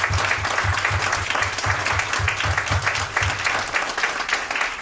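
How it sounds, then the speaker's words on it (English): A crowd applauds at a UK health business event, with steady, full clapping from the audience throughout and no voices over it. "could everyone just give a big round of applause to Rik?"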